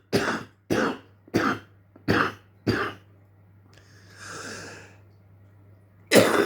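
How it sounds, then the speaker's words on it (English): Harsh morning coughing fit: five loud, close coughs in a steady series, followed by a softer wheezy, raspy breath, then another sharp cough at the end. No talking. "Morning cough."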